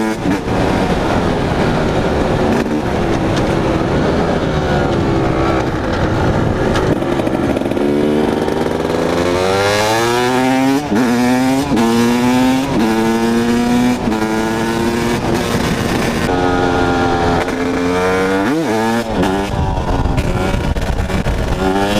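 A two-stroke motorcycle rolls downhill with the clutch pulled in, its engine revving up and down in repeated rising and falling sweeps, close and loud, with no talk.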